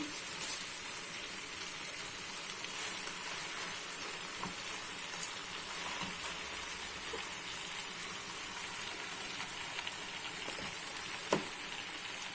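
A faint, steady sizzle and hiss of washed, chopped spinach cooking in a pot with rice continues throughout, with an occasional small click.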